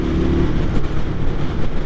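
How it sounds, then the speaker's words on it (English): Engine of a 2023 Indian Scout motorcycle pulled to high revs while riding, a loud steady low roar with rushing wind noise, close and continuous for about two seconds. "rolling on the throttle here, getting into high RPMs"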